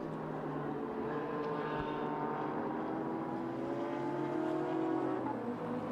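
A Japan Cup race car engine at the Okayama circuit roars steadily with a loud sustained drone and shifting whining harmonics, heard alone with no talk.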